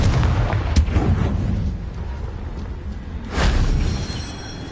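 The Confringo fire spell exploding in Hogwarts Legacy, with several sharp booming bursts, one early and a strong one past the middle, over a continuous rumbling low background.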